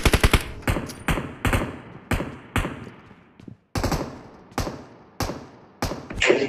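Rapid bursts of automatic gunfire from the BGMI battle royale game, loud and close, firing in short clustered volleys separated by brief pauses.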